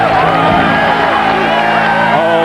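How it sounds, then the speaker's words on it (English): Spectators at a bowling tournament beside Lake Michigan cheer and whoop in a loud, steady roar of mixed voices, with some shouts rising above the crowd noise throughout. "this is some view from Lake Michigan, isn't it? College working this really enthusiastic crowd"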